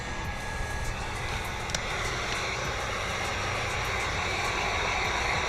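A Hobao Hyper VS2 nitro RC car engine warms up with a steady, loud, buzzing drone that holds constant throughout, with no voices.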